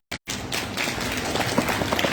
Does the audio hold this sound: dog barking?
no